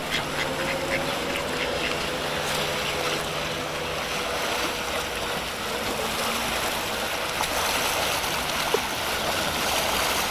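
Ducks quacking near water at the Swiss and Italian border, many calls overlapping in a dense outdoor bed with steady water and wash noise throughout.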